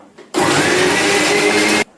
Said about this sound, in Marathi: आता हा मसाला आपण मिक्सर मधून बारीक करून घेऊया